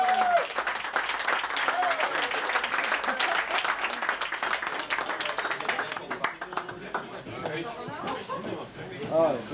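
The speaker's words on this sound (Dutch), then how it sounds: "Geef hem een applaus." A club awards gathering breaks into applause from the crowd, with sustained clapping mixed with chatter and voices that thins out toward the end while people keep talking.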